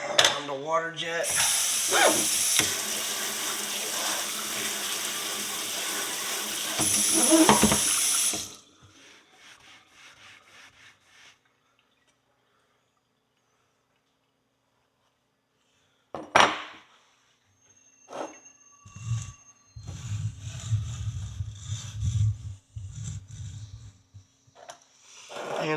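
A water jet sprays loudly in a hissing blast for several seconds while cleaning a small pony's front horseshoe, then cuts out; after a silent gap come clinks, scrapes and brief spraying bursts up close.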